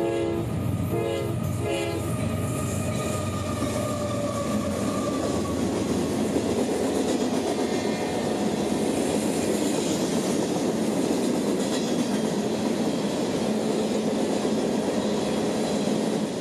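A CSX freight train passes northbound near Dade City, Florida, its horn sounding loud at the start before steady rolling wheel and rail noise fills the rest, close and continuous with no talk.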